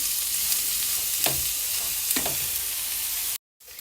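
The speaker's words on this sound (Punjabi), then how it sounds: "ਪਨੀਰ ਨੂੰ ਹੁਣ ਕੁਝ ਟਾਈਮ ਇਹਨੂੰ ਆਪਾਂ ਐਵੇਂ ਹੀ ਪੱਕਣ ਦਿੰਨੇ ਆ" Paneer frying in a pan for Punjabi-style paneer bhurji, a steady close sizzle with a few stirring scrapes, alone, before a brief dropout near the end.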